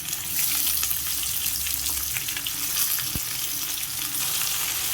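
Broad bean pieces fry in a pan with a steady, loud sizzle and crackle that runs through the whole stretch, with one brief thump near the end and no talking.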